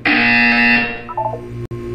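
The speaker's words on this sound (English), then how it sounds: "You will hear a buzzer." A loud, harsh electronic buzzer blares in the Portal 2 test facility, a sustained tone that cuts off after about a second, followed by a brief lower beeping pattern and a sharp click.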